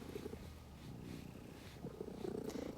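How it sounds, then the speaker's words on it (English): A house cat purrs steadily and softly right beside the microphone, a low continuous rumble with gentle rhythmic pulses, quiet and close, with no talking. "You might hear my cat purring."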